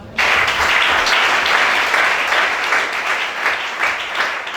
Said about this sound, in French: Acclame Charlie